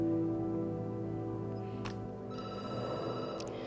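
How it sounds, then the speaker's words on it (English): Telephone ringing in the video game Night Call, an electronic ring sounding briefly and then tones against a low steady hum. "The phone rings and you jump."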